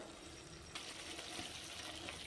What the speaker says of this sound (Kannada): ಸ್ವಲ್ಪ ನೀರು ಹಾಕ್ರಿ